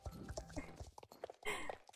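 Hooves of a horse in the Star Stable Online video game clop in a quick walking rhythm, mixed with other game sounds and a faint background voice.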